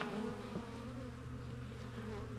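Honey bees hum in a steady, soft, low buzz as they are installed into a hive, the drone close but faint and continuous throughout.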